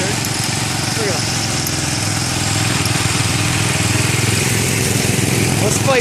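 A 1967 Case 155 cast-iron tractor engine runs steadily at a loud, close, throbbing idle while it shoves against another tractor.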